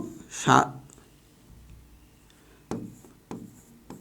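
Pen strokes scratch out an answer during a math lesson on compound interest: a short burst of voice, then a few separate scraping strokes, close and fairly quiet.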